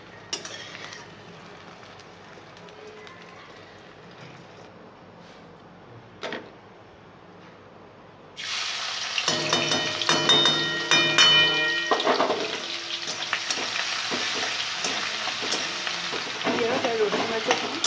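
A two-egg omelette frying in a pan gives a quiet faint sizzle at first, then a sudden loud, crackling sizzle with scraping and stirring clatter that keeps going to the end.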